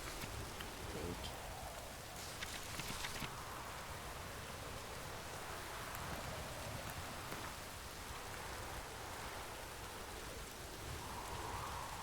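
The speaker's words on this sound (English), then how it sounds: "It's raining, it's pouring" Steady rain pouring in the Witcher 3 video game, a dense continuous hiss of falling drops at moderate level throughout.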